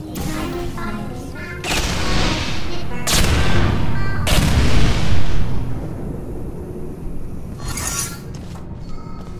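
Turrets fire in Portal 2, with loud rattling bursts of rapid shots in several volleys that fade into a lingering rumble between them.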